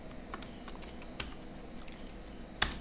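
Scattered computer keyboard keystrokes as keys are pressed while coding in Android Studio, a few light clicks and one sharper final press, heard up close and quiet.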